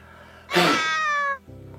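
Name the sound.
cat meowing sound effect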